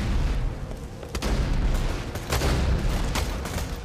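Gunfire in the looter-shooter Borderlands 2: a dense, continuous roar of weapon fire and booming impacts with sharp cracks punching through, loud and unbroken throughout.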